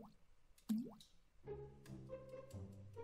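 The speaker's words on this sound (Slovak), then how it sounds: "Potom ju vložíme do hrnca so studenou vodou." Fish head and cod pieces dropped into a pot of cold water, giving a single wet plop followed by soft watery sloshing and clinks, close and fairly quiet, with no talking.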